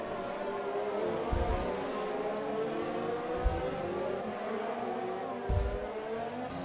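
Honda VTEC race car engines in a sim racing video game, a sustained high-pitched engine whine with shifting pitch and a few low thumps, steady and moderately loud with no talk.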